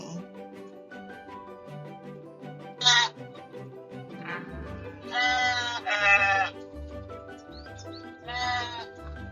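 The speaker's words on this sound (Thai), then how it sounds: "เขาจะคอยต้อนฝูงแกะขึ้นไปบนเนินเขา เพื่อพาไปกินหญ้า" A flock of sheep bleating as they are herded up a hillside to graze, with several overlapping wavering cries, some loud and close, rising above a low continuous backdrop.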